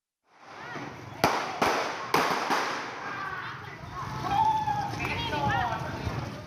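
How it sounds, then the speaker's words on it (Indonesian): Four sharp gunshots ring out in quick succession as police move to arrest a robbery suspect in Sumenep, Indonesia, followed by excited voices shouting in the background. "Terdengar bunyi tembakan berkali-kali saat tim Resmob Polres Sumeneb akan menangkap pelaku begal"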